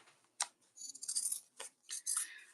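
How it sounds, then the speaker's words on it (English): Fabric scissors snip off the edges of a mini top-handle tote in close, crisp bursts of several cuts, quiet and isolated with no voices. "Now we're going to cut off the edges."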